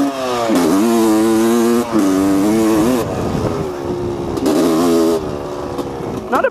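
A 1985 Honda CR250R two-stroke dirt bike engine runs loud and close, revving up and down in several rising and falling bursts with brief dips between them.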